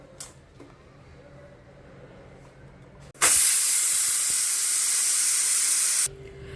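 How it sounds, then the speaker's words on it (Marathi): Low kitchen background, then a loud, steady hiss of steam venting from a pressure cooker whistle while cooking potato curry, lasting about three seconds before cutting off abruptly. "आपल्याला कुकरच्या 2 शिट्ट्या करून घ्यायच्या आहेत."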